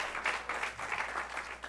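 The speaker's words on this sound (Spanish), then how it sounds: "¿Por qué no se dan un aplauso otra vez todos ustedes" An audience at an academic event applauds, a brief burst of moderately faint clapping from a crowd, steady throughout with no voices over it.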